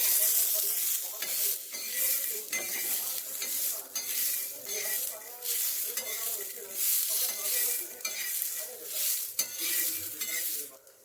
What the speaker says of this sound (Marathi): आधी तुरीचे दाणे भाजून घ्यायचे.